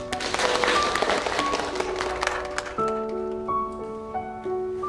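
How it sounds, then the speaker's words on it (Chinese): Classroom of students clapping to welcome a new classmate, a scattered burst of handclaps over the first few seconds that gives way to sustained musical tones. "让我们用掌声欢迎新同学的到来"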